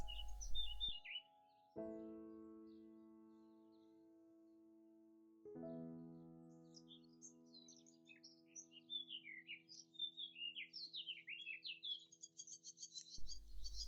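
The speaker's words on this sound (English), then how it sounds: "listen to those birds. That's actually one bird." A single songbird singing outdoors, heard from inside a quiet craft studio, with fast varied chirps and trills that sound like several birds. Long sustained musical tones play in the foreground.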